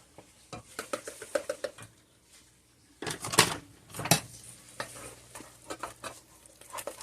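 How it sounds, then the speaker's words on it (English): Melted butter and flour choux dough is worked in a pot with a utensil, making close, irregular scraping and patting strokes that grow busier toward the end. "You want to mix this until there are no lumps in here."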